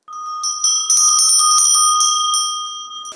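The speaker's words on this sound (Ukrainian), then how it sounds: "Останні деталі і дзвоник готовий." A small hand-cast bell rings clearly on its own, struck in a quick run of bright metallic strikes whose pure overtones linger and overlap before fading.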